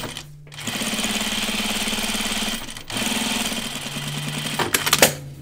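A sewing machine stitches a strap with a steady mechanical whirr and rapid needle chatter, pausing briefly midway, then running again before stopping with a few clicks.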